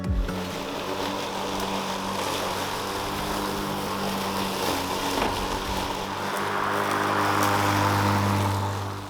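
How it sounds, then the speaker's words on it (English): A lawn mower engine runs steadily nearby, a continuous droning hum with a slight rise in pitch and roughness toward the end, with no talking over it. "I'm mowing for the first time."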